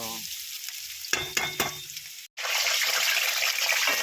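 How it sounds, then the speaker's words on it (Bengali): Loud sizzling of eggs frying in a hot pan with a couple of sharp scraping stirs, a brief cut, then a steady crackling fry continues. "ডিম ভাজা হচ্ছে"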